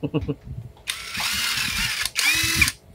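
Cordless drill converted from an impact wrench runs in two loud bursts of steady motor whine, the second one rising in pitch. Mechanical ratcheting clicks and short speech come before the first burst.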